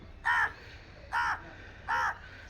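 Crows at Koti Teertha, Gokarna caw three times in a steady rhythm, each call short and harsh, fairly close and clear over a quiet outdoor background.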